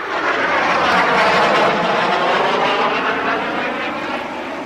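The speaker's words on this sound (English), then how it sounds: "Oh, it's a plane. Must be from the airfield down there." A propeller airplane from a nearby airfield drones loudly overhead, a broad steady roar that holds and then fades slightly as it passes.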